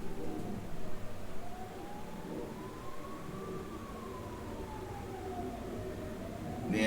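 An ambulance siren sounds outdoors in Hungary, near hospitals and an ambulance center, with a slow rising and falling wail that carries from a distance over low background rumble.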